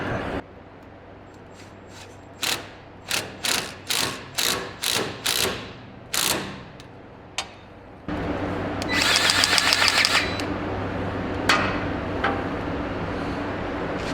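A hand ratchet tightens a loose bolt on a large 7-foot-wide snowblower, giving a series of about ten sharp, close clicking bursts, followed by a faster, denser run of rapid ratcheting clicks, with no speech.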